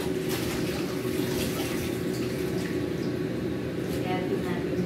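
Steady tap water running continuously while cabbage is washed in a kitchen, close and fairly loud, with a faint voice underneath.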